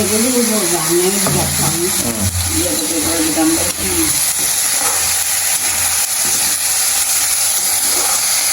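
Salt and onions sizzle steadily in a hot pan for Jaffna-style idiyappam kottu, a constant close frying hiss running beneath voices talking throughout.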